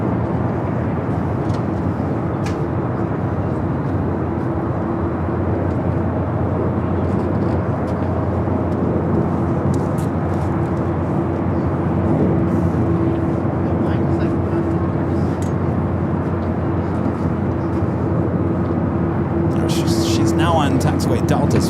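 A Lufthansa airliner taxis at LAX, turning left onto taxiway Delta, its engines giving a steady, distant drone that holds evenly for the whole stretch.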